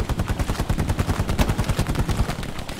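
Rapid automatic gunfire in the World War II shooter Hell Let Loose, a dense run of close, loud shots firing in steady bursts for nearly three seconds without any speech.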